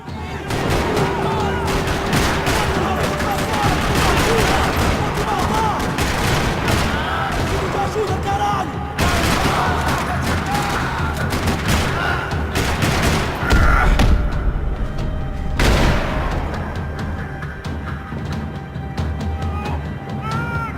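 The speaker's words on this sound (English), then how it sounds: "Another parking lot rattling with gunfire." Dense bursts of gunfire in Max Payne 3 crackle almost nonstop, with heavy thuds and booms mixed in and voices shouting over the battle.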